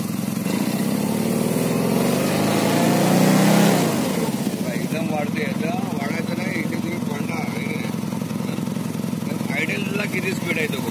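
A high-power fire pump engine runs steadily at about 1300 rpm, a loud, continuous mid-pitched mechanical drone with a brief swell at first, while someone talks over it.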